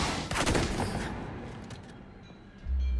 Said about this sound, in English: Dante's being shot.